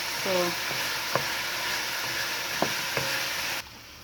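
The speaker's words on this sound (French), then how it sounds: "So while I'm frying my spices" Spices sizzle and fry in a pan for a jute-leaf soup, a steady hiss with a few sharp clinks of a stirring utensil, before the sound cuts off abruptly near the end.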